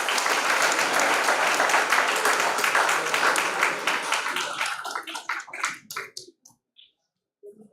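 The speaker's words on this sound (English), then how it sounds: "Please give a huge round of applause for our winners." Loud applause from an audience at a university project expo award ceremony, dense at first then thinning into scattered individual claps that die away into silence with a faint sound at the very end.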